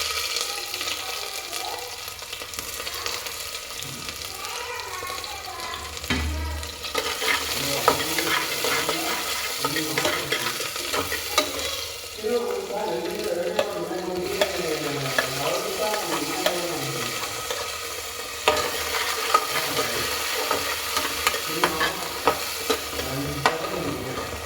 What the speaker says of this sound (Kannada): ನಾನು ಸಾಂಬಾರಿಗೆ ಏನೇನು ಮಸಾಲೆ ಬೇಕು ಅದನ್ನೆಲ್ಲ ನೀಟಾಗಿ ಫ್ರೈ ಮಾಡ್ಕೋತಾ ಇದ್ದೀನಿ